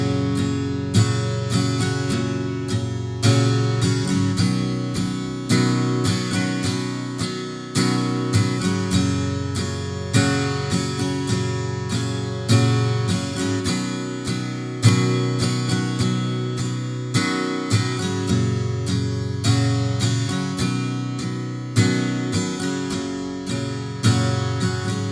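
An acoustic guitar plays the verse of a song alone, with steady strummed chords in a regular rhythm throughout.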